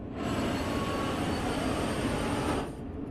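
A loud, steady mechanical roar with a broad whooshing hiss, like a powerful engine at full throttle, from an SD70ACe diesel locomotive in a train-driving video game, running continuously before cutting off near the end.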